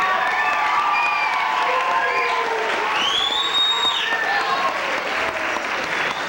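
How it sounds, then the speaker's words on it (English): At a 5th grade graduation ceremony, the audience gives steady, full applause for the graduating boys and girls, mixed with cheers and a few children's shouts, continuing without a break throughout. "Let's give one round of applause again for the boys and girls."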